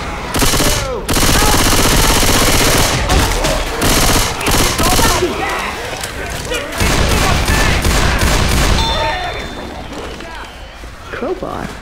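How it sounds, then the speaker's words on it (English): Rapid gunfire and automatic weapon bursts from the Left 4 Dead 2 zombie shooter on Xbox 360, loud and near, dense volleys with brief pauses and trailing booms, under in-game character callouts and talk. "Shooting."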